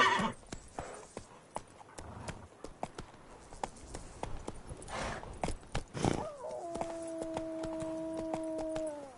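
Hooves of Roach, the horse in The Witcher 3, clopping in an uneven rhythm, followed near the end by a clear rising whinny and a long sustained tone.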